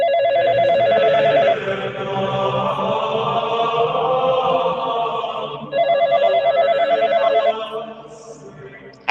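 Telephone bell ringing loudly and close, in two long bursts of rapid trilling separated by a brief pause, with a steady hum of voices or background noise underneath.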